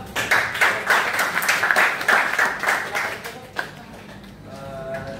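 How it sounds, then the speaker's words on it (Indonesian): Classmates in a school classroom clap for a student group after a presentation, rhythmic, fairly close clapping that thins out toward the end as a voice begins. "Tepuk tangan untuk kelompok 2"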